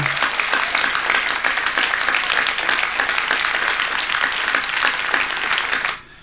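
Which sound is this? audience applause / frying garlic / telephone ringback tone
audience applause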